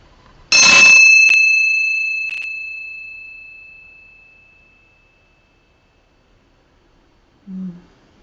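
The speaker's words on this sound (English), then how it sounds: "I would like to start off with the bell to set the intention to cleanse your space and cleanse my space" A single bell struck once to cleanse a space rings out with a clear, sustained tone that slowly fades over several seconds into near silence.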